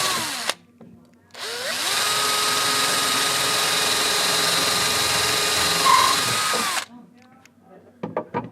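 A power drill fitted with a cheap drill bit limiting ring whirs steadily for about five seconds at close range, with brief handling clicks and rustles before and after.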